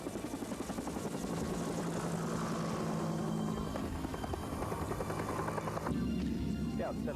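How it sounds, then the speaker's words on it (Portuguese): A Sea King helicopter on an anti-submarine search thumps steadily with continuous rotor chop and engine whine, heard loud and constant while radio-style voices talk over it. "O capitão ordena que um helicóptero Sea King investigue."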